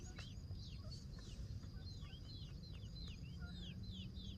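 Chickens cluck and chirp repeatedly over a steady low background rumble, the calls fairly faint and scattered throughout.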